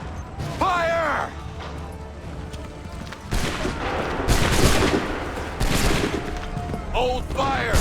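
A musket volley fires on command in Assassin's Creed III: several loud, broad bursts of massed gunfire crackle over a noisy battlefield, with shouting voices and cries around them.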